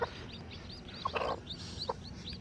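A Kadaknath hen gives soft, low clucks, quiet and steady in a cold farm setting where chicks are hatching, with a few faint high chirps between the clucks.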